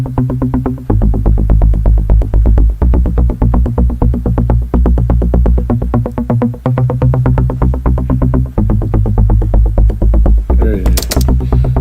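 A loud melodic techno synthesizer loop pulses in a steady, driving rhythm with a deep throbbing bass, repeating without pause.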